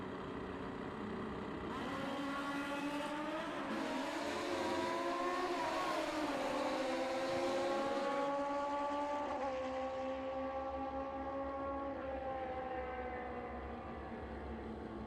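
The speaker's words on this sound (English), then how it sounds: "start your burnouts, please, racers." Pro ET drag racing motorcycles doing burnouts at the Fuel Tech World Finals, high engines revving and wailing in rising, sweeping tones that hold for several seconds and then taper off.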